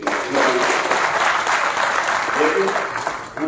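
A crowd of women at a payments bank BC Sakhi conference applauds loudly and continuously, while voices talk over the clapping.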